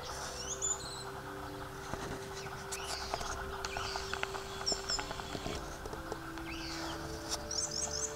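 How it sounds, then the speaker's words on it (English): Birds chirp and sing outdoors near the end of summer's opposite season, late winter edging toward spring in New Zealand, with faint, scattered calls over a low steady background hum. "It's almost spring in the air here. We have another month to go, but listen to the birds."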